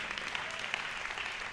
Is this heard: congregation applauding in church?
yes